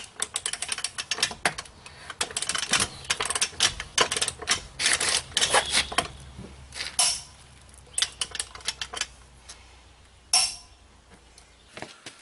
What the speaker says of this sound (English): So now we'll just get the bolts back on and tighten this up.